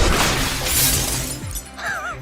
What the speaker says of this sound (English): You're hitting a pitch with sound waves that have the same resonant frequency as the glass. That's why it shatters.